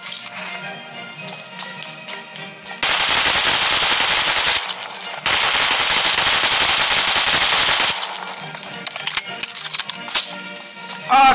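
Gunfire in a firefight from the video game Kaiserreich, two long loud bursts of rapid automatic fire broken by a short pause, followed by scattered single shots, with voices talking over it.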